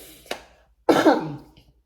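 A single near cough follows a short sharp throat click, then trails into quiet.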